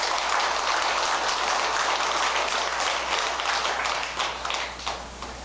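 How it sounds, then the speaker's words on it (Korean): An audience at a Buddhist Dharma service in a hall claps together in a dense, sustained burst of applause that stays loud, then thins slightly toward the end. "그러면서 박수를 한번 보내주세요"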